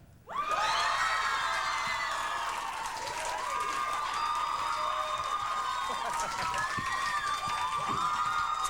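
A large audience at a MusiquePlus music television studio screams and cheers, a loud continuous roar of high-pitched shrieks and whoops that swells suddenly and holds throughout.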